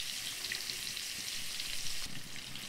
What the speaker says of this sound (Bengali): ওই পাশে জিরে ফোড়ন দিলাম।